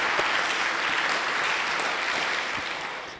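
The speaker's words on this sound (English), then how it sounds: "For the rest, let's just hold the applause till the end." An audience applauds at a gathering, a dense, steady wash of clapping that carries on throughout and fades slightly at the end.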